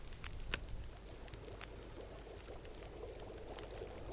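Water is poured into a pot for boiling in the survival video game The Long Dark: a steady, continuous splashing pour lasting several seconds over a low background rumble, with no one talking.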